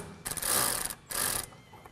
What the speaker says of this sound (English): So we're going to go ahead and tighten the 2 bottom bolts